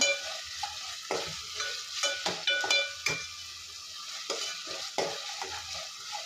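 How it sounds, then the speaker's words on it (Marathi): Chakuli dough pieces fry in a pan for a Maharashtrian dish, with steady sizzling and repeated scraping, knocking stir strokes of a spoon against the pan, close and clear with no talk. "कच्चेपणा जाईपर्यंत आपण फ्राय करायचं आहे हलवत राहायचं आहे"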